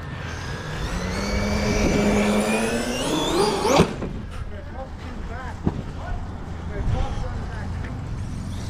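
A Traxxas Sledge RC monster truck with a Castle 1650kv motor drives by, its electric whine rising in pitch before cutting off abruptly, followed by quieter bumps and rattles.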